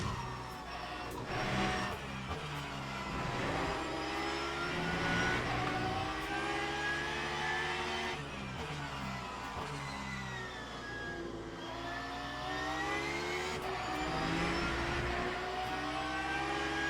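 Race car engine in the Le Mans Ultimate video game, a steady, loud drone with shifting pitch through a corner, running continuously for the whole stretch.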